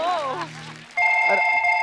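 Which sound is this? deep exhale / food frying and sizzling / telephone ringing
telephone ringing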